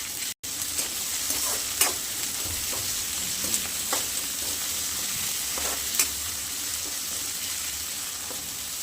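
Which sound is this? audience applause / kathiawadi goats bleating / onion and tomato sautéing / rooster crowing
onion and tomato sautéing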